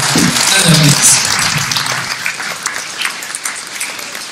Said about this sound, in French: Et ça mérite un applaudissement.